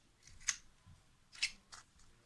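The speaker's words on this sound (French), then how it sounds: "Tu vas ensuite prendre ta perforatrice et faire un trou au niveau du masking tape qui est au milieu vers le haut." A handheld hole punch clicks through masking tape on a homemade paper bookmark, producing three short, crisp snaps, each one quiet, close and isolated, with near silence between them and no voices.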